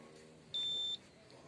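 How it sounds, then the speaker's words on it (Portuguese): An Electrolux LT12F washing machine's power board gives a single steady electronic beep, clear and close, lasting under half a second against a quiet background hum. "Aí, esse sinal, esse bip, quer dizer que a placa de potência está funcionando."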